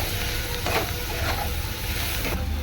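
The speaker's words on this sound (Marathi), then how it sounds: "गरम मसाला, धना पावडर आणि हे छान मिक्स करूया" Garam masala and coriander powder being stirred into gavar bhaji in a pan, a few scraping strokes over a steady low sizzle, close and moderately loud.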